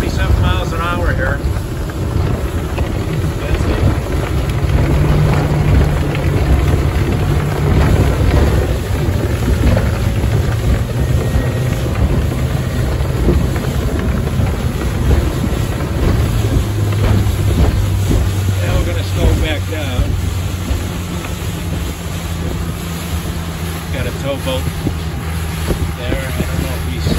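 Carolina Skiff 23LS running at about 26 to 27 mph on Lake Worth around 3,000 RPM, a loud, continuous outboard drone with water rush and wind buffeting the microphone, with someone talking over it.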